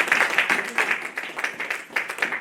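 A church congregation clapping together, a fairly steady, rhythmic round of hand claps at moderate distance, continuing without pause.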